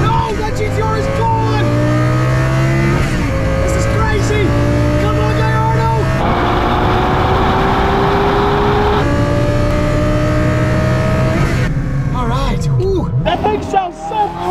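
A twin-turbo Lamborghini racing a Nissan GTR, a loud, sustained engine roar with steadily climbing pitch through gear changes, heard from inside a car while people shout excitedly.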